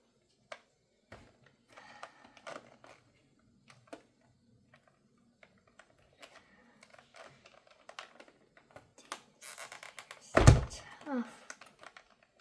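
A Pokemon Card EX Battle Deck box being opened by hand: scattered light cardboard taps and clicks build toward a loud tearing rip near the end, with faint voice-like sounds in the background.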